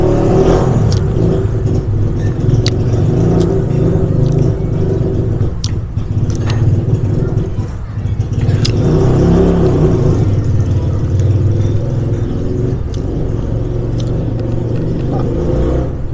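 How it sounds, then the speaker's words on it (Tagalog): A motorcycle passing outside, a continuous loud engine rumble and whir that dips briefly and then carries on steadily, heard from indoors. "Motor po sa labas."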